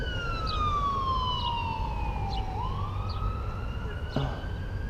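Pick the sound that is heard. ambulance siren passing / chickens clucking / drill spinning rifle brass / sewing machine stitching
ambulance siren passing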